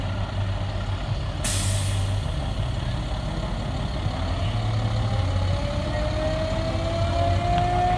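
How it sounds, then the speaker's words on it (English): Flatbed tow truck carrying a patriotic car display in a small-town parade, letting out a sharp loud hiss of air brakes over a steady idling engine rumble, with a faint rising whine toward the end. "Our next entry from West McDaniel is a flatbed tow truck with a patriotic car"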